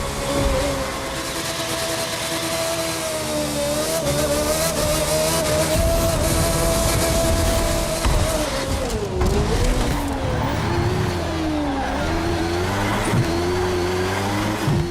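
A racing video game car speeding through city streets, its engine loud and close with a steady high whine that rises and falls as it shifts and corners, and tires squealing now and then.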